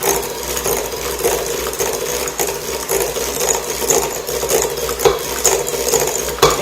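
Stand mixer creaming butter with sugar for baking, a continuous busy whir with rhythmic clattering and scraping from the beater in the bowl, close and loud, with no talking.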